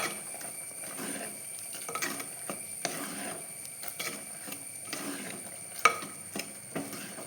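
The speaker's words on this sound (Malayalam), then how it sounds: "ഒന്ന് ഇളക്കിയിട്ട് അടച്ച് വെക്കാം." Spoon stirring ash gourd pachadi in a pan, a soft scraping and light sizzle with scattered clinks, fairly quiet and close, with no talking.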